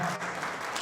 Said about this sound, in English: if you don't give yourselves a round of applause, I will come to you table after table and insist that you all clap